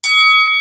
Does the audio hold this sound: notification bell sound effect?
yes